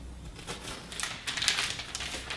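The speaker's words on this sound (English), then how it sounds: "I'm just going to slice the ends off and then slice it right down the middle so we can get the plastic off" A knife slices the ends off a plastic-wrapped tube of sugar cookie dough and the wrapper is peeled away, giving soft crinkly scraping and rustling that builds in the second half, close and fairly quiet.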